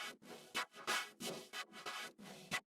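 Auto-pan with phase adjustment turns a music part into a wide, rhythmic pattern of short, choppy bursts with brief silent gaps, fairly quiet, in an electronic drop breakdown.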